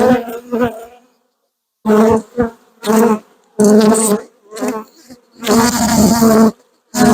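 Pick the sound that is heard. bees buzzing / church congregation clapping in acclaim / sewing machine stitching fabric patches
bees buzzing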